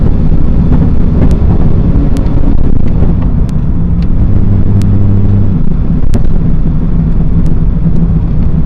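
Ferrari F40 engine heard from the cabin while driving, a loud continuous low rumble with a slight shift in pitch partway through, wind buffeting over it and occasional sharp ticks, no talking.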